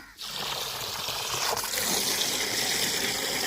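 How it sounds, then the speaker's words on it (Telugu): Goat tripe being rinsed in water, with steady splashing and trickling that starts after a brief pause and carries on at even, close loudness, with no talk over it. "వాటర్లో ఒకటి పదిసార్లు కడుక్కోవాలి శుభ్రంగా"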